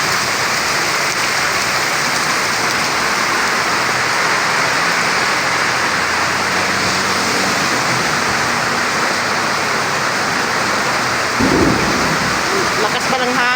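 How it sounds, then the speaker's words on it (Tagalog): Heavy downpour roaring steadily and loudly over the whole stretch, dense and unbroken, with a brief low rumble or thump near the end. "Lakas ng ulan."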